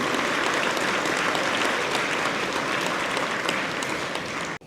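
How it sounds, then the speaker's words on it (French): Steady, full audience applause honours the platinum-category partners at Quebec's Agricultural Hall of Fame ceremony, a dense wash of clapping that holds evenly throughout and cuts off abruptly at the very end. "Mesdames, Messieurs, applaudissons nos partenaires de la catégorie platine"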